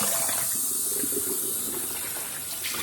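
Tap water gushes and hisses steadily while dirty garden lettuce leaves are rinsed, with faint splashing and rustling under the flow.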